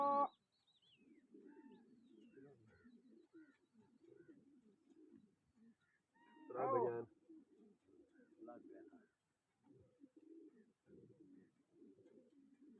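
A flock of pigeons keeps up a steady, low cooing murmur throughout, with a brief louder burst partway through and scattered faint chirps.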